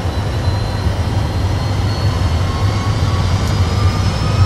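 Jet aircraft engines hold a steady, loud, broadband roar as they run toward takeoff thrust, with faint whining tones rising slightly through the sustained noise.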